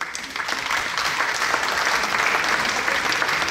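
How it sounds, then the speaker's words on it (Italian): Audience applause at a public cultural talk in Termoli, a steady dense wash of clapping from a crowd, moderately loud and continuous with no speech over it. "che ringraziamo ancora con un applauso"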